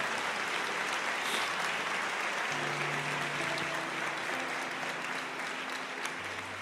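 Church congregation applauding the Lord during a Portuguese-language sermon, steady sustained clapping from a crowd throughout, with a low instrumental drone entering partway.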